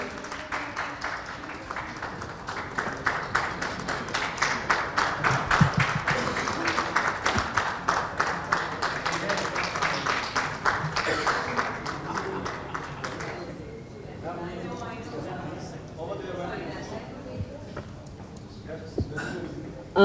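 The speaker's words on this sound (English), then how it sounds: "Can we please have a big round of applause" Guests at a luxury residence launch clap in a sustained round of applause for about thirteen seconds, rhythmic and moderately loud, before it drops away and voices talk quietly over the room.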